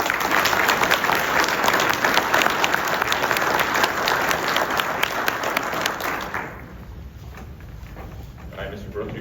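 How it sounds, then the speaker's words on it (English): An audience at a sheriff's office awards and promotions ceremony applauds Deputy Brooks, a steady, full round of clapping that fades out toward the end. "Round of applause for Deputy Brooks."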